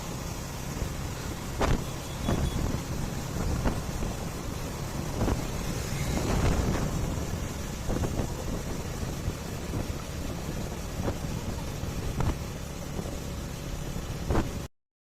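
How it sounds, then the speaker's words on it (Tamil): A vehicle cruises along a highway, a steady road and wind roar heard from inside, with occasional brief thumps over the constant drone and no talking. "அந்த வண்டி போகிற அந்த சவுண்டை ஃபீல் பண்ணுங்கள்."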